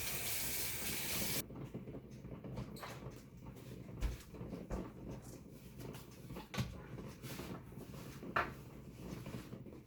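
Vegetables are rinsed under a running kitchen sink tap, a steady broadband rush of water with occasional clunks and handling knocks. There is no talk.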